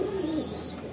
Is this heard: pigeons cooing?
yes